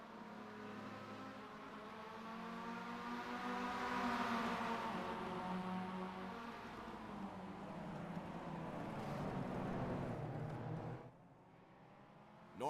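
Mazda MX-5 race cars in the iRacing sim at Tsukuba Circuit, a steady engine drone with harmonics slowly rising and falling, held at a moderate distance before cutting out near the end.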